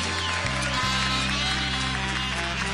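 A studio audience applauds to welcome a singer at a birthday show, with dense, loud, sustained clapping over a steady background tone.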